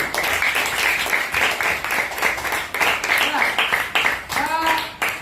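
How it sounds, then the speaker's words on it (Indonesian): A classroom group applauds a team, with broadband clapping that holds steady for about five seconds under scattered voices and murmuring. "Tepuk tangan untuk kelompok 1."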